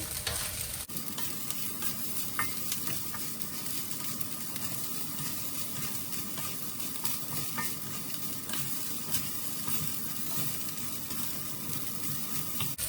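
Char siu fried rice fries in butter on high heat in a pan, a constant close sizzle with scraping stirs running steadily throughout.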